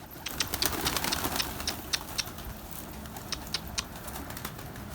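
Pigeons cooing softly in a loft, repeated low coos with occasional sharper chirps and faint wing sounds, fairly quiet and without talk.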